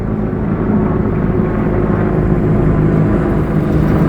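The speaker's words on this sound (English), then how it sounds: "wait for these helicopters" Helicopters passing overhead above a Los Angeles street, a loud, dense rotor and engine roar that stays steady and close throughout, with no talking.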